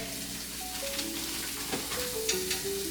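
Ground beef sizzles in a non-stick pan with no oil, a steady close frying hiss with brief clicks of a utensil stirring and scraping, with no talk over it.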